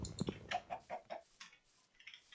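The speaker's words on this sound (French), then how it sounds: "Ah, il y a un poulet." A Minecraft chicken gives a string of soft clucks, a few quick ones and then some spaced-out ones, faint and fairly close, with no talking.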